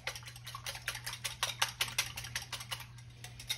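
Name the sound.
mixing eggs in a bowl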